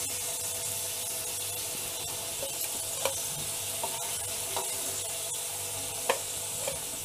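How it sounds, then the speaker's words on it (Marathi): Slices of yam (suran) shallow-fry in oil with a continuous hissing sizzle, broken now and then by faint scraping and tapping of a utensil in the pan, with no talking. "तर अशा प्रकारे मी उरलेली सुद्धा कापं ही तळून घेते"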